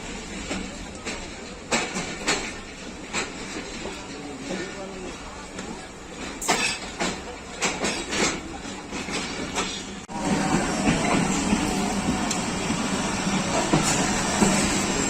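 Allama Iqbal Express of Pakistan Railways pulling out of Rohri Junction at night, a steady rumble of rail noise with irregular clacks and knocks that swells louder toward the end, while voices chatter in the background.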